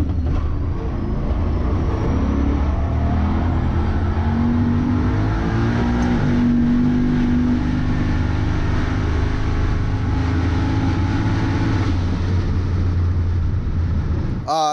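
A rotary-engined drag car heard from the passenger seat, accelerating hard down the strip with a loud, continuous raspy engine roar that climbs and shifts through gears, with wind and cabin rumble throughout.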